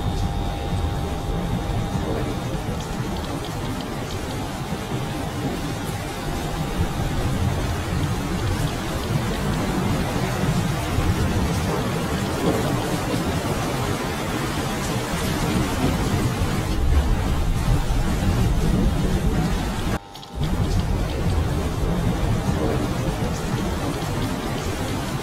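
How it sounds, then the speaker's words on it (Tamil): Heavy pouring rain with thunder, a dense constant roar of downpour with low rumbling beneath, steady throughout apart from a brief cut near the end. "என்ன மழை, கொட்டுற மழை."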